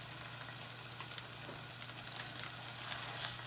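A chocolate-filled pastry sizzles in a pan as it fries, a steady hissing crackle with small pops, close and continuous, with a low electrical hum beneath.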